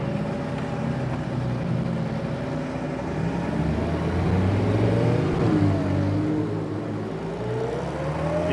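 Pre-war racing car engine running steadily while driving, a loud continuous near drone with harmonic tones that rise and fall slightly as the car moves along at low speed, no talk over it.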